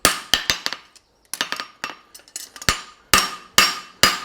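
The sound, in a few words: hammering inside edge of horseshoe thin while forging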